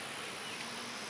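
Honeybees buzzing around a Flow Hive whose flow frame holds drone brood from a laying worker: a faint, steady hum of many wings, continuous and unbroken for the whole moment, with no voices.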